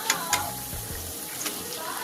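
Coriander leaf fritters (dhone patar bora) frying in hot oil and being turned over, a soft continuous sizzle with a few light scraping taps of the spatula.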